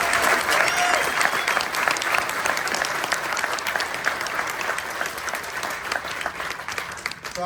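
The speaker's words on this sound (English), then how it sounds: "And I think they deserve a round of applause." A large crowd at a transit grand opening ceremony for the Better Red line gives a sustained, loud round of applause that tapers slightly toward the end.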